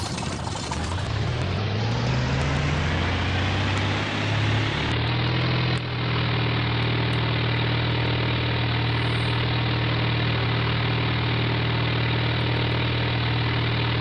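A light Cessna propeller plane's engine in the Flight Simulator 98 game runs up from idle and settles into a loud, steady takeoff drone that holds unchanged for the rest of the stretch, with no voices.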